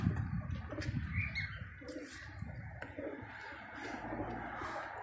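Pigeons coo softly and repeatedly outdoors, with a few higher bird chirps and a steady open-air background hum.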